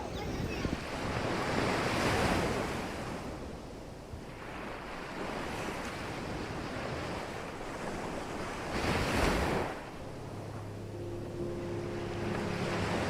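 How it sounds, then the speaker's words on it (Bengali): Sea waves wash onto the beach at Mousuni Island, a broad rushing surf with swells that rise and fade, mixed with wind buffeting the microphone and a faint low engine hum toward the end. "একদিকে সমুদ্রের ঢেউ"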